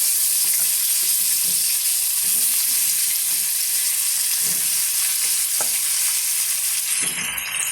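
Large chunks of pumpkin fry in hot coconut oil with a loud, constant sizzle right at the pan. Faint stirring knocks and scrapes surface now and then underneath, and no one speaks.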